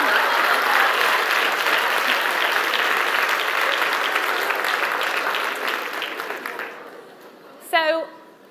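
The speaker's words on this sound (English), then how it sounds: "Big round of applause." A seated audience at a TEDx talk in Manchester applauds in a dense, steady burst of hand claps that tapers off toward the end, followed by a brief voice.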